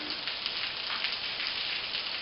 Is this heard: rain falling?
yes